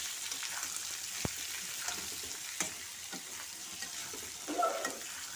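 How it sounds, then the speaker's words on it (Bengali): Chickpeas are stir-fried in hot oil for a potato and chickpea masala curry, producing a quiet, steady sizzle with scattered spatula knocks and a brief louder stirring rustle near the end; no speech. "ছোলাটা একটু ভাজা ভাজা হোক, তারপর দেবো মশলাটা"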